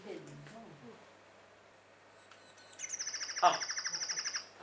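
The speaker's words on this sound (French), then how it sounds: "C'est une mésange." A tit, a small garden songbird, gives bright rapid chirps near a residence in Saint-Brieuc, a quick repeated run of high notes that swells near the end, following a brief spoken exclamation.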